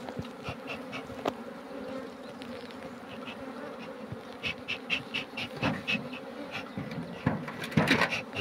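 Honeybees at a hive being split in spring make a dense, close buzzing that drones on throughout, with scattered taps and knocks from working the hive and no voices.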